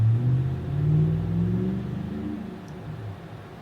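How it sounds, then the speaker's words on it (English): Car passing by outside, its engine swelling and then fading as a steady, moderately loud rumbling pass heard alone with no talking. "There's another car passing by."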